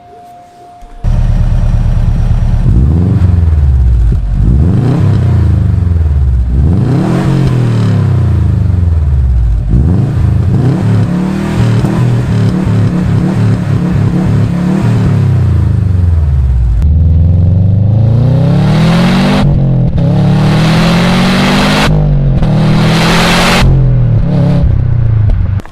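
A 2004 Subaru STi with its EJ boxer engine and SPT catback exhaust revs hard and repeatedly, loud and close, with rising and falling sweeps and a burbling, rumbly idle between pulls, no voices.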